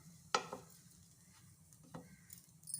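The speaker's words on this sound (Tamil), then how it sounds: "ப்ரெட்டை நல்லா ரோஸ்ட் பண்ணிக்கலாம்." Sandwich bread roasting in a hot pan gives a faint, low sizzle, with a sharp utensil clack near the start and a few soft scrapes and knocks afterwards.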